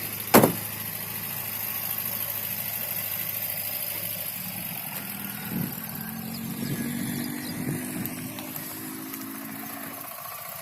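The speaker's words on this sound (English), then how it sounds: "Now start the car." A car engine starts with a sharp click, then idles and runs steadily with a low rumble that rises slightly as it revs, fairly close and alone without talk.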